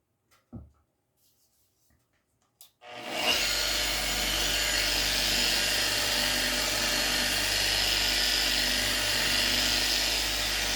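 A polishing machine with pads made for Menzerna wet compounds buffs a guitar's finish using heavy cut compound. After a few faint knocks it starts up into a loud, steady, close whirring hiss that runs to the end.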